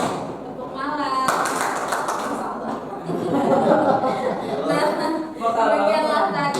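A group of people clapping out a call-and-response clapping rhythm game at a school gathering, quick bursts of claps mixed with chuckling and voices close by.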